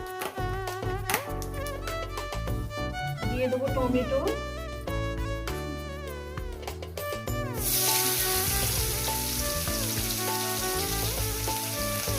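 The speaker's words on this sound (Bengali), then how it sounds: "কালো জিরে ফোড়ন দিলাম কালো জিরেটা ফোড়নটা আমার ভাজা ভাজা করবো" Black cumin seeds tempering in hot oil after fried eggplant is lifted out, with a broad crackling sizzle surging up partway through over a continuous musical background.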